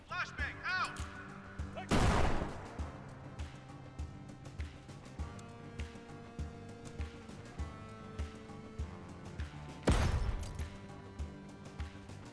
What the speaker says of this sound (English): we're going to try to throw a flashbang right at the HVT, right on the fucking head